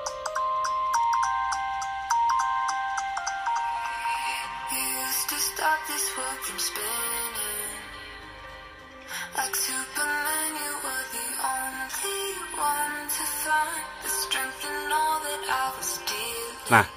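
A song plays from an ROG Phone 3's speaker at full volume, its melody and beat sounding slightly thin, with a brief dip in volume midway before resuming.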